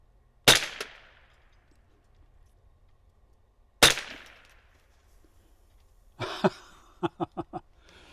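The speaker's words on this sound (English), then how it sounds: "So we're going to do some more shooting." A Winchester Model 74 .22 rifle fires at steel targets and cans outdoors: two sharp single shots a few seconds apart, then a quick cluster of faster cracks with metallic pings near the end.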